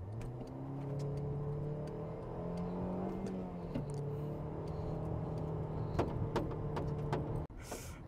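A 2009 Honda Accord accelerating on an open road, its engine note rising and holding steady with a faint shift partway through, heard from inside the car with clicks and a brief drop near the end.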